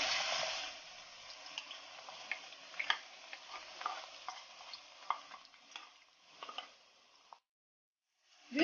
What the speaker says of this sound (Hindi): उसमें मैं ये 2 मीडियम साइज की प्याज हैं, इनको मैंने फाइनली स्लाइस किया, ये ऐड कर रही हूँ।